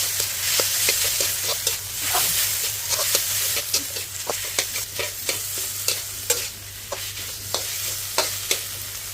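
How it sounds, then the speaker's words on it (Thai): Canna flowers and minced pork stir-fried in a pan over low-to-medium heat: a constant sizzle with repeated scraping and clanking of a spatula against the pan, close and alone. "จากนั้นก็ผัดต่อค่ะ ผัดให้ส่วนผสมเข้ากันค่ะ"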